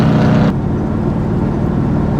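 A van's engine and exhaust drone inside a sound-deadened cabin, a loud, steady low rumble that drops in brightness after the first half second, leaving a muffled bass hum.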